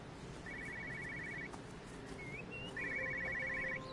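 An old-style telephone rings in the video game Everybody's Gone To The Rapture, two trilling bursts about a second long separated by a pause, faint over ambient game hiss.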